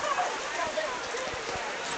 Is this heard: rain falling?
yes